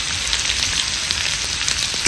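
Pounded garlic and coconut fry in hot oil in a pan for chicken curry, making a constant, fairly loud crackling sizzle with small pops scattered through it.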